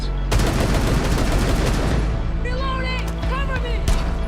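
Gunfire from the 417 marksman rifle in the video game Rainbow Six Siege, with dense repeated shots that fill the first two seconds, followed by ringing, warbling game tones and a few more sharp reports over steady loud ambience.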